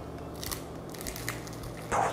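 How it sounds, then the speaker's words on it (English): Close, crisp crunching of a bite into Al Baik fried chicken, a couple of brittle cracks followed by a louder final crunch, fairly quiet overall with no talking. "Listen to that crunch."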